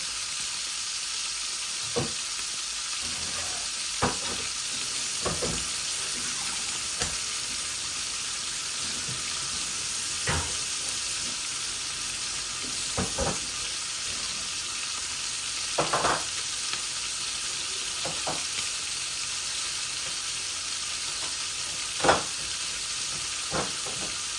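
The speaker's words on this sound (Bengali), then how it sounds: "আমার মশলাগুলা বালা করে ভাজা হয়ে যায়" Spices fry in a pan with a steady loud sizzle and hiss, broken by scattered scraping clicks of stirring, alone without talk.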